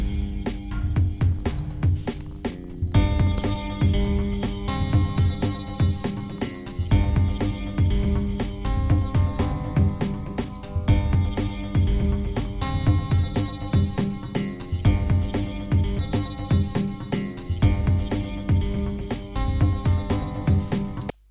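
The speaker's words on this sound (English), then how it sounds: "I'm quite sure you guys will hear the music in the background" Background music from a C# program using SoundPlayer, a steady harmonic piece running continuously at moderate level with repeating sections and no talk over it.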